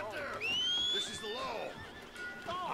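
A horse in the video game Red Dead Redemption 2 gives a clear whinny with a rising squeal, followed by softer snorts and another short neigh near the end, heard fairly close.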